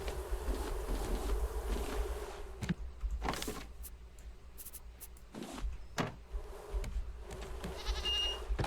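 A swarm of bees buzzes around a beehive in a farming video game, a steady drone with sharp clicks and bursts layered over it.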